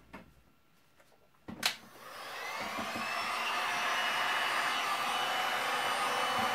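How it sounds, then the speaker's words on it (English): Heat gun blowing hot air over a resin pour made with Le Rez Expressions pastes; a click and short burst start it, then a steady loud broadband whoosh holds for several seconds, close up with no talk. "now I'm going to get my heat gun out and try to move it a little bit"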